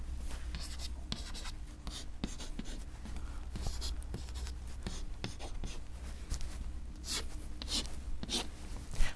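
Pen or pencil writing out a multiplication of numbers by hand, with steady close scratching strokes continuing throughout without speech.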